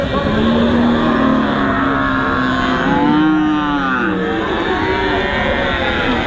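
Cattle moo loudly at a busy livestock market in Hazratpur, several long drawn-out calls overlapping close by over a constant crowd and engine hum.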